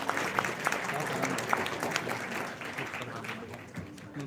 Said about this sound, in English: A very big clap to the speakers of the day who are all here.